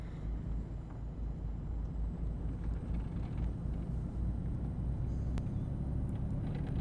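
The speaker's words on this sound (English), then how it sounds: "the retarder turns on. You can actually hear the audible change." A Mitsubishi Fuso SuperGreat truck in the Euro Truck Simulator 2 video game with its retarder engaged, giving a steady, loud low-pitched rumble and drone that holds throughout.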